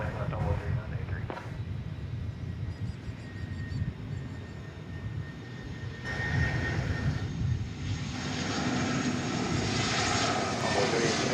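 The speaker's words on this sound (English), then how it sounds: "It's an Airbus A319." An Airbus A319 jet airliner on an airport runway, a distant steady engine roar that swells and builds toward the end, with a radio voice talking over it.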